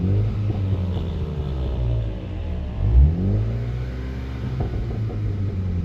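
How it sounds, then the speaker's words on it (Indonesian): MINI John Cooper Works Countryman ALL4 (2020, F60) engine revving while parked with a warm engine, a steady loud rumble rising into one sharp throttle blip near the middle before settling back to idle, with no talk. "Ini mesinnya udah anget, jadi langsung kita geber dikit aja"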